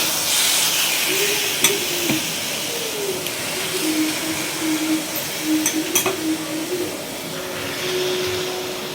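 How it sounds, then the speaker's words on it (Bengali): Marinated fish fries in a hot kadai with a continuous broad sizzle and hiss, broken by a few sharp clinks and stirring scrapes, at moderate loudness close by. "মাছটা ম্যারিনেট করা হয়ে গেছে যখন আমি কড়ার মধ্যে দিয়ে দেবো।"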